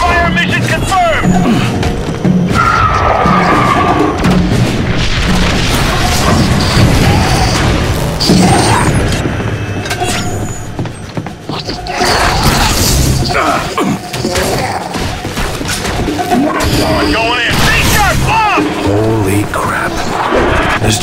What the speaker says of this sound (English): Bombardment now! Fire mission confirmed!